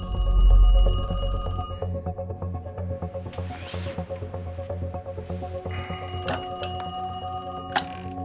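Telephone ringing late at night, a loud, close, repeated electronic bell trill with no talk.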